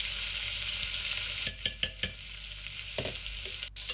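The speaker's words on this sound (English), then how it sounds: "and stir nicely." Green chilies and salt sizzle steadily in a hot pan while a spoon stirs them, giving a handful of distinct scraping strokes midway and another near the end, close and clear with no talking.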